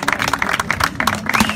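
An audience at an English language club meeting claps for a speaker, many hands producing quick irregular claps at close range, loud and sustained across the moment.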